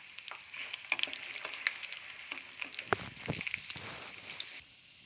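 Chana dal and urad dal crackle in hot oil for a tempering, a faint, uneven frying sizzle with scattered pops and stirring scrapes and a brief louder burst near the end.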